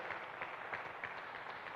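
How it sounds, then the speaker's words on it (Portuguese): Church congregation applauding, a steady wash of continuous clapping at moderate distance with no clear voices over it. "Você pode aplaudir a Jesus"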